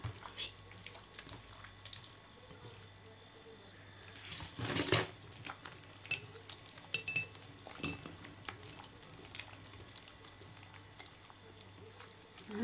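Soft butter for cookies is mixed in a bowl, producing faint, irregular scraping and light utensil clinks against the bowl, with one louder rattle partway through, all quiet and close.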